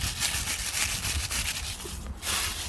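Dried bitter leaves, cut and harvested for animal feed, rustle and crackle steadily as they are handled up close, a dry continuous scratchy rubbing with no talk.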